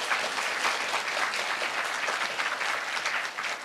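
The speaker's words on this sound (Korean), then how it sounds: "큰 박수로 맞이해 주시기 바랍니다." An audience at a university entrance ceremony applauds to welcome the university president: dense, steady clapping from many hands, filling the room evenly without pause.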